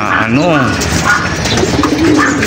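A pigeon hen coos nearby, giving a few soft, rising-and-falling throaty calls, with someone talking over them.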